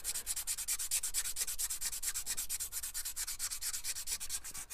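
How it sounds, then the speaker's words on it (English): Wet and dry paper is rubbed across a Skoda Octavia brake disc to polish it. The scrubbing is steady, rapid and rhythmic, a close, continuous hiss of back-and-forth strokes with no voices. "let's just give it a final polish off with a bit of wet and dry paper"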